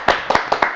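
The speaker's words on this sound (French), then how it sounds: "Oui, on l'applaudit." A few people clap for a guest in a radio studio, close and sharp, with about six distinct hand claps in a quick uneven rhythm.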